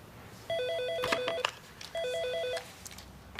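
A telephone rings twice in a household scene, each burst a rapid electronic trill lasting about a second, close and fairly loud, with faint background noise between rings.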